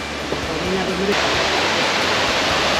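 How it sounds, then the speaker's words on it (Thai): Steady broadband rush of falling water from Khoi Nang waterfall, heard at a distance, with a brief faint voice early on before the roar continues alone. "ก็จะได้ยินเสียงน้ำตกนะครับผม"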